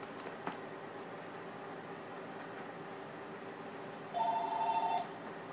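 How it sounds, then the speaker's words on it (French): Telephone ringing in a quiet room, a short electronic trill near the end over a faint background hum. "Oh, le téléphone sonne."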